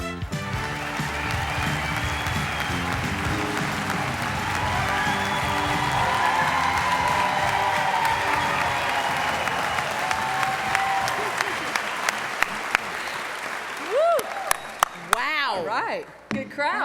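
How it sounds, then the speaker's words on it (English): Large audience at a teacher salute event applauding and cheering loudly for about twelve seconds, then the clapping thins to scattered claps and a few whoops near the end. "Good crowd, wouldn't you say?"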